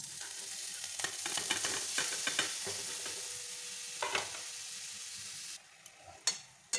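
Grated coconut and sugar go into hot ghee in a pan, setting off a broadband sizzle with scraping stir strokes and clinks, steady for several seconds before dropping quieter near the end.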